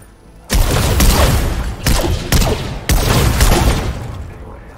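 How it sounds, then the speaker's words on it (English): Loud video game gunfire in a Marvel-themed shooter, sustained bursts of rapid shots and booming impacts for several seconds with brief gaps between volleys. "I'm fighting some gunshots."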